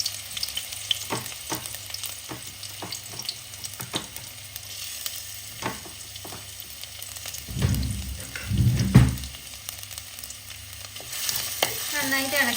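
Chili, shallots and garlic fry in a pan while being stirred, with a low steady sizzle broken by repeated spoon clicks and scrapes and a couple of heavier rumbling stirs near the end.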